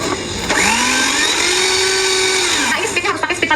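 An electric hand mixer whirs steadily at its highest speed while beating sponge roll batter, a loud sustained whine that holds for a few seconds and then falters slightly at the end.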